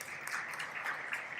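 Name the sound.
audience applause for conference speakers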